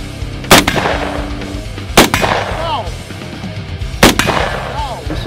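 Three loud gunshots ring out at an outdoor shooting range in Orlando, spaced about one and a half to two seconds apart, each sharp crack followed by a brief echo.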